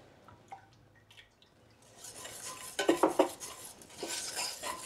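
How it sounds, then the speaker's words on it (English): Metal spoon scraping and clinking against a pan while stirring thick cheese sauce for a leek gratin, quiet at first, then a run of sharp scrapes and knocks building to steady stirring. "Sorry about the scraping, guys, but we don't want a lumpy sauce."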